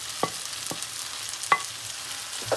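Boiled shredded chicken is stirred into thick gravy in a pan, a soft background sizzle broken by a few scattered spoon taps and scrapes, close and fairly quiet.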